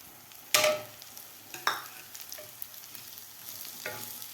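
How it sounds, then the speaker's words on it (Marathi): Peanuts and chopped spring onion are stirred and sautéed in a pan for a mixed-vegetable khichdi, with three sharp bursts of sizzling as ingredients hit the hot oil and a spatula scrapes, then a soft steady frying hiss. "आता कांदासुद्धा आपल्याला 2 मिनटं व्यवस्थित परतून घ्यायचा आहे."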